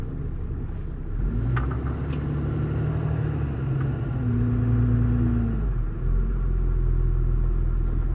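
Ram 5500 Cummins diesel 4x4 mechanics truck (2017) on the road, a continuous low engine drone whose pitch climbs and drops as it shifts through gears, steady and moderately loud.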